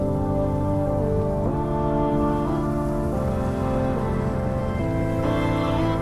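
Steady rain patters on a sailboat riding out a passing shower, a dense, continuous hiss close around the hull with a low tonal hum running beneath it throughout.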